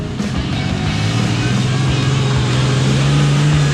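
A one-ton Jeep Cherokee in two-wheel drive revs hard while pulling on an off-road trail, a loud continuous engine drone that climbs steadily in pitch, with no talk over it.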